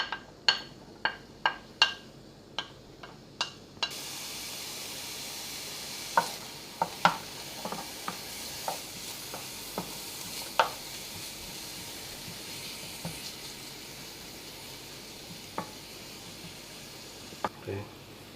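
Onion sautéing in a pan for a chicken BBQ bun filling: a string of sharp scrapes and taps from the opening, then softer irregular stirring knocks over a low steady sizzle, close and moderate in level.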